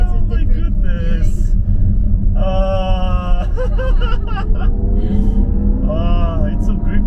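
Jaguar I-PACE electric car being driven, a steady low road rumble running throughout beneath people talking and laughing inside the cabin.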